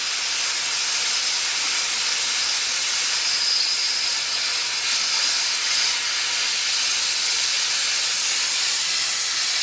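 An ArcCaptain Cut 50 plasma cutter melts through metal with a loud, steady, close-up hiss, a continuous bright roaring spray of sound with no pauses and no one talking.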